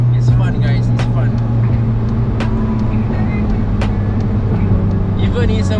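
A Volkswagen Scirocco 1.4 TSI gives a steady, loud engine drone heard from inside the car, with a low hum and road noise running continuously as it pulls.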